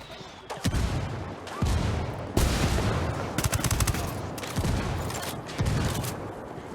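Repeated bursts of automatic gunfire from a Ghost Recon Wildlands firefight, loud volleys of shots recurring every second or so with rattling rapid reports layered over a constant battle din.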